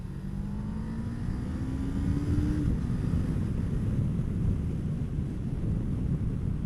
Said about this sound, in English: Good revvy little engine that.